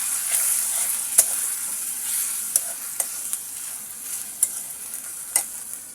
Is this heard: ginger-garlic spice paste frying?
yes